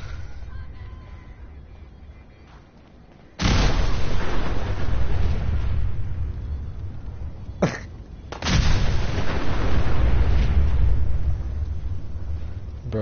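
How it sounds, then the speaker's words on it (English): Heavy explosions burst around a player in a combat video game, with a sudden loud blast followed by sustained booming rumble, a brief gap, then another powerful blast and rolling roar. "Explosions all around."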